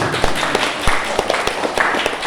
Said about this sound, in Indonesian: Kalau mau tepuk tangan jangan tanggung-tanggung